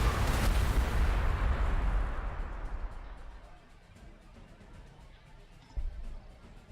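A heavy artillery shot booms in the strategy game Warhammer 40,000: Gladius, fired by Astra Militarum forces: a loud, broad blast that rumbles and slowly fades over several seconds, with a smaller thud near the end.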